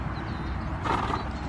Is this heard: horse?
yes